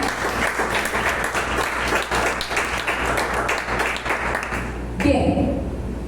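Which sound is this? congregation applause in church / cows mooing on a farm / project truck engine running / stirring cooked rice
congregation applause in church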